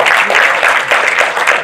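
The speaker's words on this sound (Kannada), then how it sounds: "ಒಂದು ಕ್ಲಾಪ್ಸ್ ಕೊಡಿ ಅವ್ರಿಗೆ" An audience at a film teaser launch applauds to welcome guests onstage, a dense and loud burst of clapping that holds steady throughout.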